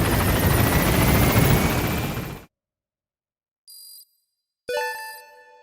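Helicopter departing in the Metal Gear Solid V video game, a loud continuous rotor roar that cuts off abruptly after a couple of seconds, followed by brief electronic interface tones and chimes.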